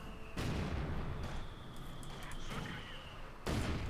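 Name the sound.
mortar fire in video game Company of Heroes 2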